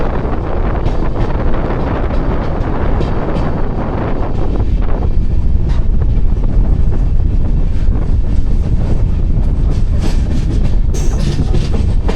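A 13048 Vibhuti Express train runs on rails between Banaras and Prayagraj, hauled by its front locomotive, with a steady loud rumble and rail clatter throughout, plus wind buffeting, close and continuous with no talk.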